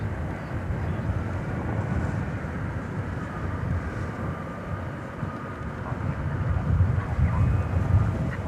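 A Boeing 777 airliner at DFW Airport at night gives a steady, distant jet rumble that swells slightly toward the end, with wind noise over the microphone.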